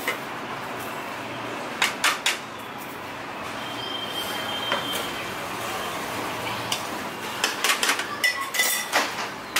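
Homemade sambar masala powder spooned onto a plate, with scattered metallic clinks and scrapes of spoon against dish, a few sharper taps clustered near the start and end over a steady low background hiss.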